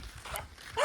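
A dog in a village gives one short, close yelp right at the end of a brief stretch of faint outdoor noise.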